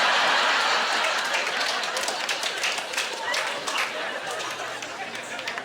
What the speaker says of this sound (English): Skinny guy trying to clap in agreement.